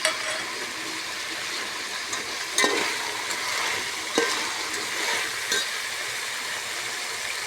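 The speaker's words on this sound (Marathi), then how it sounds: "भाज्या मस्त परतून घेऊ आपण आता भाज्या मस्त परतल्या गेल्या" Vegetables, including capsicum, sautéing in a pan for veg pulao, a steady close sizzle with occasional clinks and scrapes from stirring.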